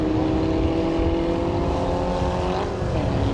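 A race car from the 750 Trophy series at Rockingham sweeps through the banked final turn and over the start-finish line, its engine a steady, loud drone that holds throughout with a slight swell near the end.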